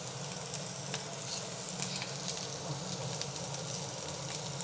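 Chopped onion dropped into hot oil in a pan sizzles and crackles in a steady, close, dense hiss that holds for several seconds, with no one talking.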